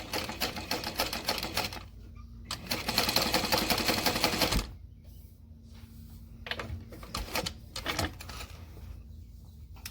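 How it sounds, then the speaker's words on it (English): A home sewing machine stitches through two layers of woven fabric in several bursts separated by pauses, running loud and close, then continuing in shorter intermittent runs. "My machine was not made to sew 2 layers of woven."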